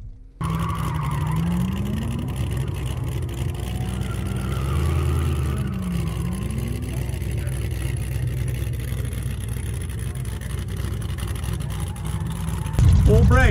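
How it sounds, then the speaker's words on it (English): An LS-swapped truck doing a burnout, its engine roaring loud and steady for the whole stretch with tire skid and squeal layered on top, the revs rising toward the end. "get your element and we'll go do a burnout"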